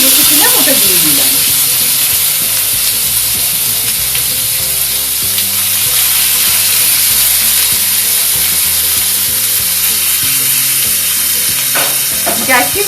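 Marinated chicken with black pepper sizzles steadily in a hot pan, a continuous bright frying hiss running through the whole stretch beneath a backing of music.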